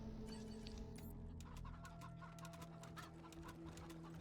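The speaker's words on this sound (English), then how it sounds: "So do we bring Mecha Chicken?" A chicken in the video game Wasteland 3 clucks in quick, repeated bursts over a constant background drone from the game's soundtrack and ambience, fairly faint and continuous throughout.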